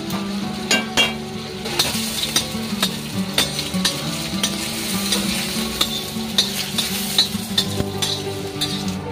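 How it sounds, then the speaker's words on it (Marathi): Chicken sizzles in a hot spice tempering for a homemade chicken rassa, with a steady close frying hiss and frequent sharp clinks of a spoon stirring against the pot. "आता मम्मीने चिकन टाकलंय फोडणीमध्ये"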